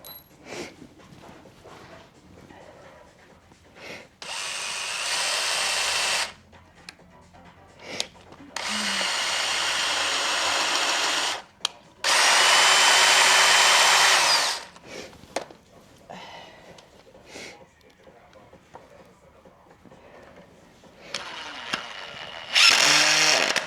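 Power drill driving screws into cabinets inside a vehicle camper build, several loud whirring bursts of a few seconds each with quieter handling noises and clatter between them.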